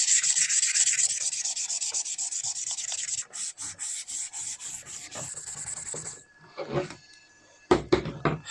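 Oxidized plastic car headlights on a Toyota TA22 Celica are wet sanded by hand in rapid, rhythmic back-and-forth rubbing strokes, close up. The strokes stop briefly, then resume in a few short bursts.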